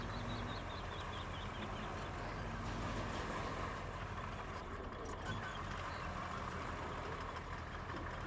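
A tracked vehicle driving in the game Roadcraft, a low steady engine rumble with clanking track noise, faint and continuous with no talking.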